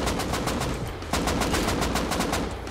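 Rapid automatic AK rifle fire in the survival video game Rust, two close, loud bursts of evenly spaced shots with a brief break near the middle.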